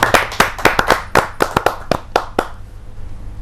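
A few audience members clap to welcome the poet Sanjay Jain at a Hindi poetry gathering, a loose, close run of sharp claps that thins out and stops after about two and a half seconds.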